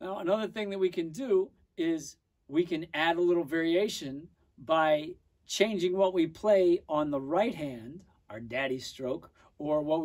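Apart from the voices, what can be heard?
No distinct noise like a dog, phone or traffic.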